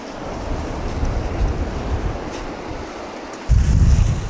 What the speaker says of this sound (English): And the wind's pushing us back, huh?